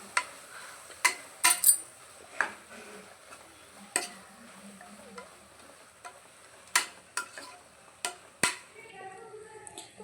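A spoon scrapes and clinks in a pan while vegetable biryani ingredients are sautéed, with faint frying underneath and scattered sharp metallic taps at uneven intervals, fairly quiet and without speech.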